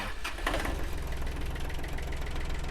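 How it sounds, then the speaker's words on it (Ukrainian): A Kubota L1-18 tractor diesel engine runs steadily at idle, a low rhythmic chugging with a brief burst of louder noise near the start, close and continuous. "А тепер заведемо і послухаємо роботу самого двигуна"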